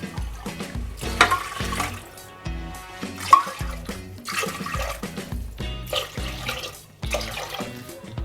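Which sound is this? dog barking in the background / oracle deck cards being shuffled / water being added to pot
water being added to pot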